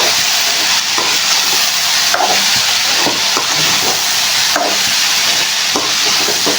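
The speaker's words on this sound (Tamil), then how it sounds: "தேங்காய் போட்டு ஒரு கிண்டு கிண்டிடலாம்" Steady loud sizzling of vegetables and coconut frying in a pan, with occasional scraping and stirring sounds over the continuous hiss.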